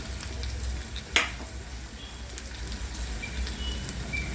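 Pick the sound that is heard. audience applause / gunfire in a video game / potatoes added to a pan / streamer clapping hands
potatoes added to a pan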